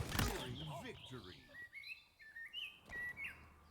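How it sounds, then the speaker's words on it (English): A loud bird in the Halo Infinite game sings close by, a run of bright chirps and whistled phrases, after a brief burst of other noise at the start. "Jesus, that bird is loud."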